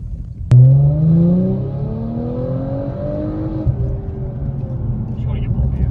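A bagged Audi S4 engine revs hard from idle, a loud sharp rise then a falling whine as it settles back, with rumbling exhaust continuing underneath; voices talk nearby in the car.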